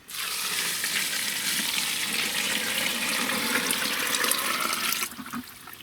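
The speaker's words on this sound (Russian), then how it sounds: "И сюда же заливаем 10 литров воды." A steady rush of 10 litres of water pouring into a barrel of chicken manure, loud and unbroken for about five seconds before stopping abruptly.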